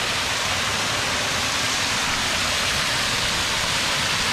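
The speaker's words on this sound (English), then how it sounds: "Get in behind the waterfall." Waterfall on a hiking trail near Elkmont, heard as a dense, steady, close roar of rushing water with no pauses.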